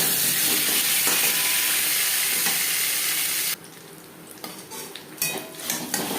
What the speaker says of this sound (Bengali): ভেজে নেওয়ার পর দিয়ে দেবো আলু।